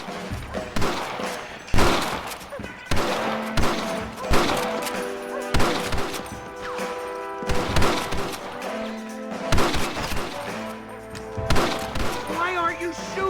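Gunfire from the Red Dead Redemption video game on PC, repeated sharp shots in irregular bursts across the whole stretch, layered with music and game action.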